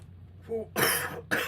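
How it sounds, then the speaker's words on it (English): Two short, harsh coughs close to the microphone, the first preceded by a brief throat sound, in an otherwise quiet room. "There's a cough."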